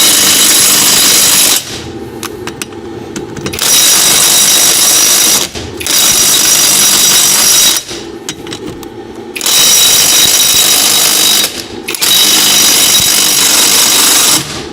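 Kamolee DTW285 cordless impact wrench loosening bolts, several loud, harsh bursts of rapid hammering, each lasting a few seconds, separated by quieter gaps of a lower running whir.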